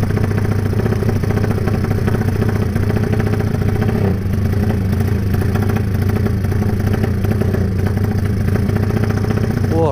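A Honda Tiger motorcycle with a newly fitted 300cc engine runs loud and close, holding a steady, rumbling idle with a slight mechanical clatter throughout and no clear revving.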